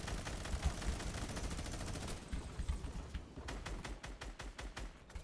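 A minigun in the Fortnite video game fires in a dense, unbroken stream of rapid shots, loud and close, with the rattle thinning slightly toward the end.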